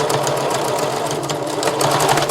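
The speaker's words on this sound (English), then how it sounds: "So I'm just going to sew from there to there." A sewing machine runs steadily, stitching a seam with a one-centimetre seam allowance on a sun dress; the motor hums loud and continuous throughout, with no talk over it.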